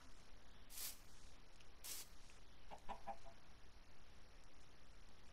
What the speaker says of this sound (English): Look at the baby chicken.